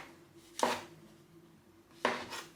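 A knife slices through onion and mushroom on a cutting board in two crisp, separate strokes, with quiet pauses between them.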